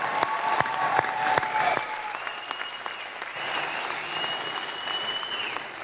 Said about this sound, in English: please give them another round of applause for their profound words